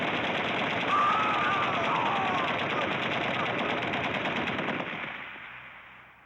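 Sustained machine gun fire rattles loudly and continuously in a 1978 wartime TV drama scene, then fades out toward the end.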